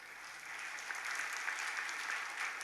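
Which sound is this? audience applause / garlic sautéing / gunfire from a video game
audience applause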